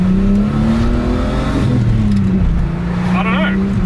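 A Ford AU Falcon accelerates hard in first gear, its engine droning steadily and rising in pitch, heard loud from inside the car while people talk over it.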